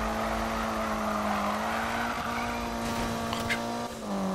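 Racing engine in Need for Speed holding a steady drone while a car drifts through a corner, with a faint tire squeal partway through, loud and continuous throughout.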